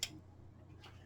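A Gosund smart plug clicks as it is plugged into an outlet, giving two faint, crisp ticks about a second apart over a quiet background hum.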